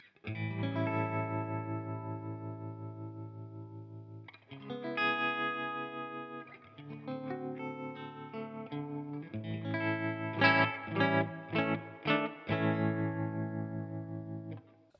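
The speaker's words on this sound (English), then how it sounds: "We'll start on with a sine wave trem." An electric guitar through a Walrus Audio Fundamental Series tremolo pedal set to a sine wave plays sustained chords and notes, the volume swelling and dipping smoothly, with some quicker picked notes later.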